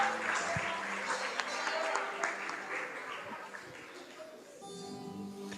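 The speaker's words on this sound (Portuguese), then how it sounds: "Vamos aplaudir Jesus com alegria." Church congregation claps together, a fairly quiet mix of applause and voices in a reverberant room, with a brief musical tone entering near the end.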